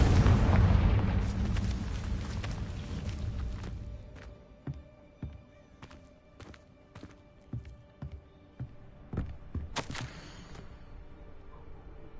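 A Confringo blasting spell goes off in the Hogwarts Legacy video game as a loud, booming blast with a rumbling decay. It is followed by scattered crackling pops, debris impacts and a sharp burst near the end.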